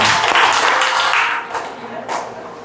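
A room of participants warming up during a class session bursts into lively clapping, loud at first then tapering off over a few seconds, with a few scattered claps and voices mixed in.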